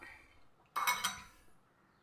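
A spoon clinks against a bowl a few times while watermelon juice ingredients and basil seeds are stirred together, a short cluster of bright metallic taps in an otherwise quiet kitchen.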